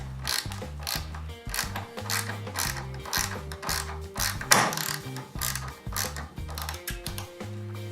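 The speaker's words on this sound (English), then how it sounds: "we'll get started here with this nut driver, or it's a ratchet" A ratchet nut driver clicks in quick rhythmic bursts as it tightens screws on a flipper (pinball) machine. The close, repeated ratcheting comes in short runs with brief pauses and a few louder knocks, and there are no voices.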